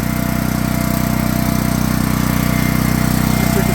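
A Champion portable generator engine runs steadily at a constant idle after sitting unused for years with bad fuel cleared from its carburetor, a loud continuous low drone with a rapid mechanical pulse and no talk.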